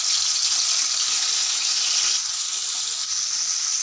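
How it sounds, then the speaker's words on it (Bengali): Kajoli fish seasoned with salt and turmeric frying lightly in hot oil, a steady close hiss and sizzle that holds evenly throughout and dips slightly toward the end. "সেটা এখন তেলে হালকা ভেজে নেব।"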